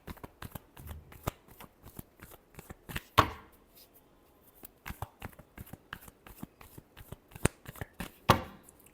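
A deck of tarot cards is shuffled by hand, close and crisp, with rapid riffling bursts and sharp slaps as the cards are squared, in a quiet setting with no talking.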